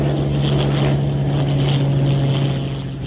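A Bell P-39 Airacobra fighter at rated takeoff power, 52 inches and 3,000 RPM, holds a loud, steady propeller-engine drone with a low hum throughout.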